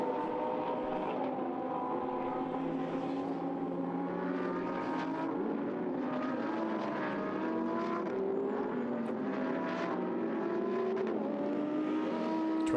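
Lamborghini Super Trofeo race cars roar past at Silverstone, with loud, layered engine notes rising and falling as several cars accelerate and shift through the circuit, with no voices.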